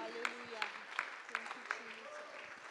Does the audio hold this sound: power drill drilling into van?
no